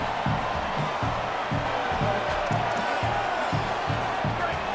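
A college football crowd roars steadily through a tense third-down play in a Bulldogs vs. Golden Flashes game, with dense stadium noise and a rhythmic thumping beat pulsing underneath.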